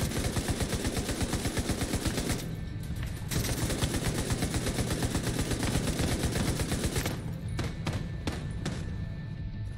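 Rapid automatic shotgun fire in a video game, dense rhythmic volleys of blasts running almost continuously, with a brief break and a few scattered separate shots near the end, loud and close.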